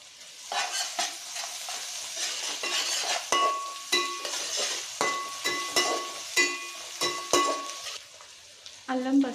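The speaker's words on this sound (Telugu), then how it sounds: "పోపులో కూడా కొంచెం అల్లం పేస్టు, కొంచెం పసుపు వేసుకోవాలి." Ginger paste and turmeric sizzle in a hot tempering for spicy fish pulusu, a steady close frying hiss broken by regular clinks and scrapes of a stirring spoon against the pot.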